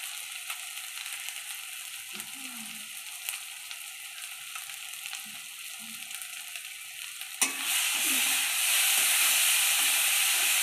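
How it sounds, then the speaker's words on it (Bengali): Masala of chilli powder, tomato, salt and turmeric fries in a pan with a soft steady sizzle and faint scraping. Partway through, a sudden loud hiss swells into a strong, bright frying roar. "ভেজে নিচ্ছে মশলাটাকে"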